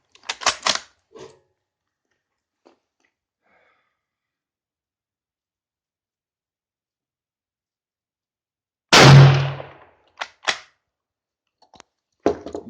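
A Yugoslavian M48 Mauser bolt-action rifle at an outdoor shooting range fires one loud, close shot with a booming decay, followed by a few sharp metallic clicks. Fainter clatter comes earlier.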